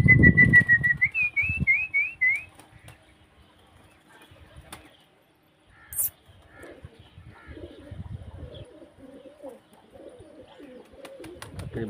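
Pigeons in Karachi, Pakistan, with a rising whistle and trilling call near the start, soft cooing, and wing flaps, followed by quieter intermittent bird sounds.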